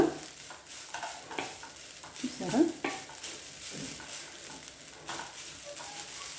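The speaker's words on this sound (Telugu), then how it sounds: "ఇలా కొబ్బరి తురుముని వేగించుకోవాలన్నమాట చిన్న మంట మీద వేగించుకోవాలి" Grated coconut is stirred and roasted in a pan over a low flame, making soft scraping strokes over a gentle sizzle while a voice speaks briefly.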